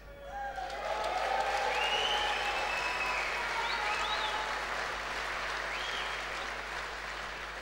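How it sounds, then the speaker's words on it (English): An audience at the TT 2010 media launch breaks into sustained applause, a dense, steady clatter of many hands that swells quickly and then tapers slightly, with a few voices and whoops rising above it. "I think we also owe Connor a round of applause"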